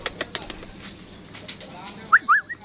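A pet parrot gives two short, clear squawks near the end after a few sharp taps and clicks, heard close up in a quiet room.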